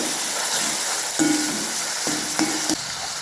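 Tomatoes fry in a pan with onions, a steady close sizzle broken by a few brief scraping stirs, no talk over it.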